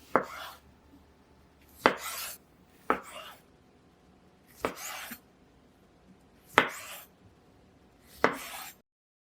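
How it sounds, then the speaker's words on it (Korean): A knife chops through tomatoes on a cutting board, slicing them lengthwise into eight wedges: six sharp, evenly spaced cuts about every one and a half seconds, close and clear with no talking. "토마토는 길게 8등분으로 잘라 주었어요."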